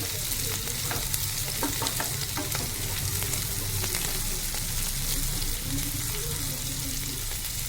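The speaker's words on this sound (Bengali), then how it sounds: "চিংড়িটা ভাজা ভাজা হয়ে গেলে এর মধ্যে আমি এবার বাটাটা দিয়ে দেবো।" Small pond-raised country shrimp frying in a pan, a dense unbroken sizzle with scattered spatter crackles and faint scraping from stirring, heard up close for several seconds without speech.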